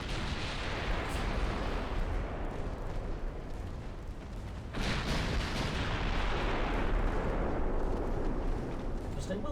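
Warship secondary guns fire in a naval battle in the Ultimate Admiral Dreadnoughts game, a dense rumbling barrage of booms with a sharper burst midway, loud and continuous throughout.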